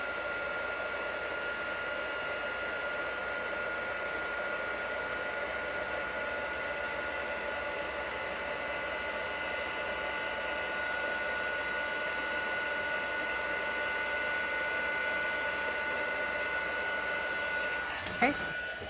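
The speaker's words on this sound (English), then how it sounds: "I'm going to grab my heat tool here. I'm just going to heat that up." Handheld heat tool blowing hot air over a Christmas treat box craft project, a steady close whirring blower hum that stays even for the whole stretch and ends with a brief click.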